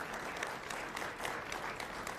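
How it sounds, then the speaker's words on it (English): Applause from the audience at a nonprofit spring benefit gala, honoring the organization and its honorees, a brief, fairly distant and steady patter of many hands. "So a round of applause again for JobPath and all of our honorees tonight"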